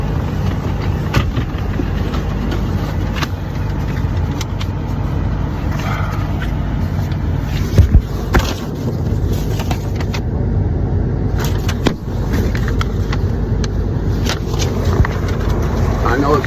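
Cars pass along a road beside a roadside police stop, a steady, fairly loud wash of traffic noise with passing swells, running under people talking throughout.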